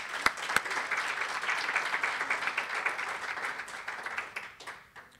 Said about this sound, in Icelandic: Gott klapp.